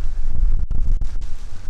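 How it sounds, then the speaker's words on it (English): Wind buffets the microphone in a steady low rumble, with a few brief gusty dropouts, on a trail at Manasquan Reservoir, New Jersey, in 40s°F weather. "It's a little windy."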